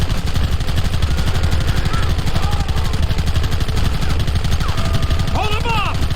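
Gunfire in the western video game Red Dead Redemption: dense, continuous rapid shots under shouting game-character voices and a steady backdrop of battle noise.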